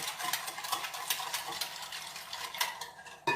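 Spoon stirring sugar into orange juice to dissolve it, a steady run of soft clinks and scrapes against the container, close and fairly quiet with no talking.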